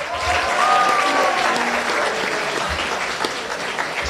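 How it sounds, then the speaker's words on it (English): Dense, steady applause from a school audience at a high school International Day show after a singer's performance, loud and sustained throughout with faint crowd murmur beneath. "Let's give another round of applause to April there."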